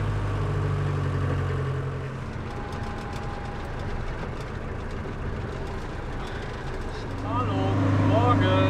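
A car moving through city traffic in Quetta, Pakistan, with a steady engine and road drone, horn-like tones and passing vehicles, and a voice talking over it.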